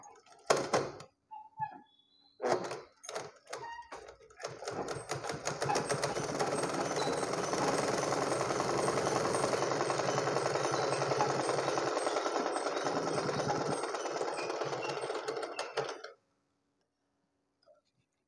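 A sewing machine stitches a blouse. A few scattered thunks give way to a long, steady run of rapid mechanical ticking for about eleven seconds, close and even, which then stops abruptly and leaves near silence.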